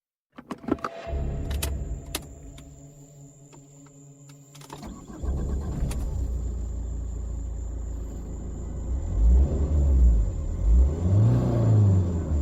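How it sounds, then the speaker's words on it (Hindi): A car reverses on a forest road: clicks and mechanical clunks, then the engine rumbles and revs with rising and falling pitch sweeps, fairly close. "मैं गाड़ी बैक करता हूं।"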